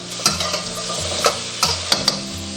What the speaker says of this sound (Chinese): 我们下入这个排骨，翻炒均匀